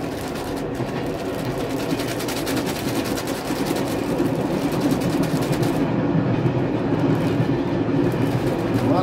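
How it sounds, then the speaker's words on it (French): Trains roll past on a railway line, a steady loud rumble with clattering wheels on rails that swells slightly louder in the second half, close by and continuous, with no talking. "On laisse passer les trains."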